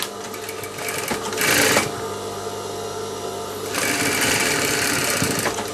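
A sewing machine stitching a pocket runs in a steady whirring hum with two louder, faster bursts, close and continuous, with no talking.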